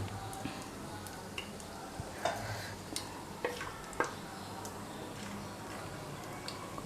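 Ingredients for a country chicken curry fry quietly in a pan before the onions go in, a faint low sizzle broken by occasional soft spoon taps and clicks.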